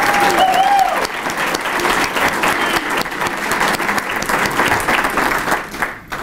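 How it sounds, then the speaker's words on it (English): Crowd at the University of Maine Black Bears 2018 student-athlete gala applauding, loud sustained clapping that fills the room for several seconds before tapering off at the end. "give a big round of applause to thank both of them"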